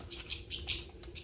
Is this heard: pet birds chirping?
yes